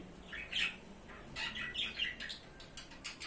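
Caged budgerigars give several sharp squawks and chirps in quick irregular bursts, close by and fairly loud, with no talking.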